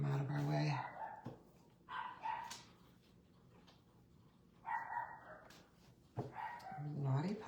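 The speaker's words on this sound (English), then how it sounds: "Naughty puppies." Puppies bark and yip in short bursts close by, several sharp excited barks with quiet gaps between, some whimpering tones mixed in.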